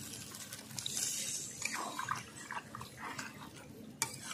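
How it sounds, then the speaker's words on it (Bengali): Water is poured into a pan of tilapia fish curry cooking with potatoes and spring onions, a soft splashing trickle with faint clinks of the pan, close and fairly quiet. "দিয়ে দিচ্ছি জল,"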